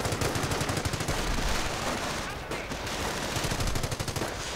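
Rapid .30 caliber machine gun bursts rattle through a World War II real-time strategy battle, steady repeated gunfire dense throughout with brief dips, while a commentator talks over the action.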